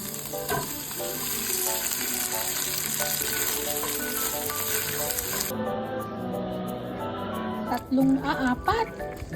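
Egg frying in a pan makes a loud, continuous close-up sizzle that thins to a softer crackle partway through, followed by a few scraping and clattering sounds near the end.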